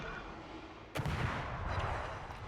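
Destroyer guns fire in a naval video game as a sudden heavy boom followed by a rumbling roll that sustains for over a second, loud against a quieter engine-like background.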